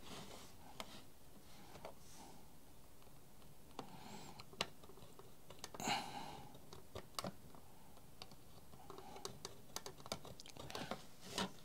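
Someone typing on a computer keyboard in a room, giving quiet, irregular clicks and taps in bursts over a low background hiss, with no one speaking.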